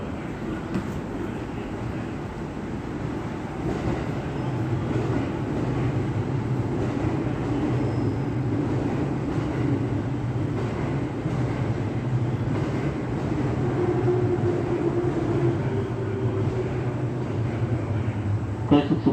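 A JR E217 series train, car KuHa E217-23, runs as a special rapid service bound for Soga in May: a steady rumble of running noise fills the whole stretch while a station announcement plays over it.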